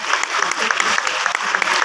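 Dense crowd applause, steady and loud throughout, many hands clapping close together with a few sharper claps standing out.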